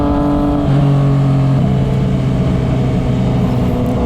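A Yamaha MT-09 motorcycle runs loud and close while being ridden. The engine holds a strong note, then shifts pitch partway through as the revs change, with wind and road roar mixed in.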